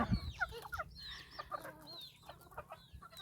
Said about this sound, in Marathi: छोटे छोटे पिल्यांना मोठ्या कोंबड्या तुडवून जातात